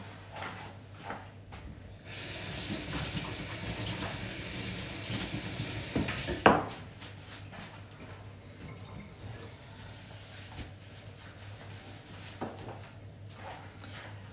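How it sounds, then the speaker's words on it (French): A running tap rinses hands at a soap-cutting workbench: a steady, close rush of water for about six seconds ends in a sharp clunk, followed by quieter room sounds. "Je vais me rincer les mains."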